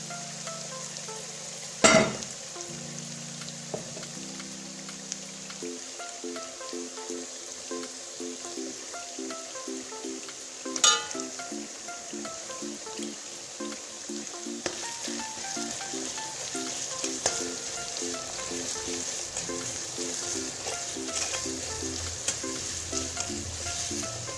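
Chopped onions and chillies fry in a pan, a steady soft sizzle with occasional stirring clatters and two sharp scrapes, while a low rhythmic hum runs in the background.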